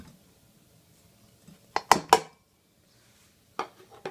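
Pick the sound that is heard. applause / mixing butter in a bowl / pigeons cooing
mixing butter in a bowl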